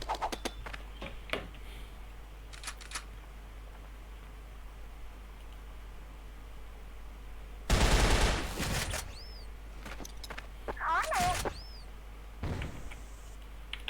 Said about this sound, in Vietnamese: Nó đang bắn nhau với đồng đội ấy.